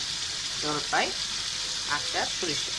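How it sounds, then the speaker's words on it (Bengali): Beef frying in mustard oil with olive pickle, a steady, close hiss of sizzling that runs throughout while a person talks over it. "জলপাইয়ের আচার আর সরিষার তেল দিয়ে এই দেখুন কষা উপরে দিলাম। কিছুক্ষণ কষবে।"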